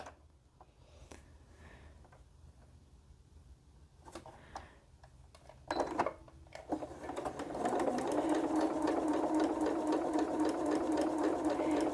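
A sewing machine stitches fabric for half-square triangle quilt blocks, beginning with scattered clicks and handling noise, then settling into a steady close whirring run of stitches for the last few seconds.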